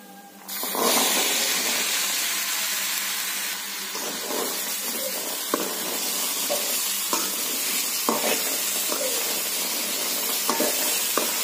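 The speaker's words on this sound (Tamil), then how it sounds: "ஒரு 1 மினிட்ஸ் இந்த மாதிரி நம்ம பெரட்டணும்னா போதும்" Boiled chickpea sundal is stirred in a frying pan, with a steady loud sizzle underneath and a scatter of spoon scrapes and taps against the pan, all close and with no talking.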